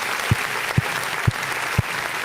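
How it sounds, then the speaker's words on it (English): An audience applauds in a steady wash of clapping, with four evenly spaced low thumps punctuating it. "I need to give him a round of applause."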